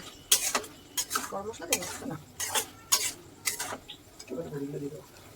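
Bottle gourd curry is stirred in a pan with ginger paste and ghee, a spoon scraping and clinking against the metal in several bursts over a soft sizzle, with brief low voices in between.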